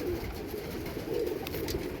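Pigeons coo softly and continuously at a rooftop where young birds, one black and one white, are being released into the open sky; the low, warbling murmur stays steady and moderately faint throughout.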